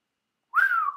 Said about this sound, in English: I keep making that whistling noise.